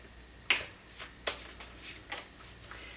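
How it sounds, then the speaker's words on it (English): A deck of tarot cards shuffled by hand, a sharp snapping riffle followed by several lighter slapping flicks at uneven intervals, close and clear in a quiet room without speech. "These cards, every time I shuffle them, they just want to fly."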